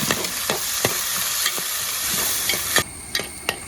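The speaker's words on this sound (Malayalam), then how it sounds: "സവോളയും ഇഞ്ചി വെളുത്തുള്ളിയും പച്ചമുളകും ഇട്ട് കൊടുക്കാം പിന്നെ നല്ലപോലെ ഒന്ന് വഴറ്റിയെടുക്കാം" Onion, ginger, garlic and green chili sautéed in a pan: a constant close sizzle with sharp spatula scrapes about every half second, the sizzle easing near the end, and no voices.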